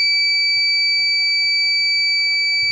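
A Microtek inverter with a new-model SMD V5 driver PCB gives a continuous high-pitched electronic beep, loud, steady and close, with no talk over it.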